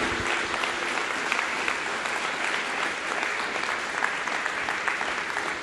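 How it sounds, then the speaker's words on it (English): An evening audience at a district attorney candidates forum applauds both candidates, with a dense, even wash of clapping from many hands that holds steady throughout. "a round of applause for both of our candidates this evening"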